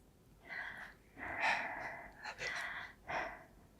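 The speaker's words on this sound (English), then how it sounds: "You can hear the faint sound of someone breathing." Soft, close breathing: a few slow, airy inhales and exhales, quiet and uneven, with nothing else around.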